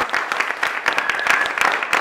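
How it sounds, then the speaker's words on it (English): Audience at a film festival talk giving a round of applause; loud, close clapping with distinct individual claps standing out from the crowd in an uneven, lively rhythm. "let's give a round of applause"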